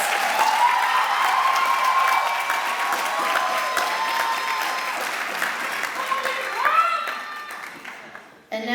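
A big room of applause and clapping from a crowd at a master's hooding ceremony for graduates, steady at first and tapering off toward the end, with some tonal sounds mixed in.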